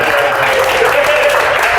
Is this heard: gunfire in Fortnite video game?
no